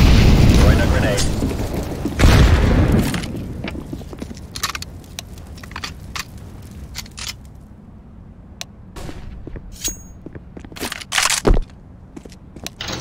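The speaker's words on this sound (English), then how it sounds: "Throwing a grenade." A grenade is thrown and explodes in the video game Counter-Strike, a loud booming blast with a rumbling tail. Sharp clicks and small impacts follow, and a voice speaks briefly.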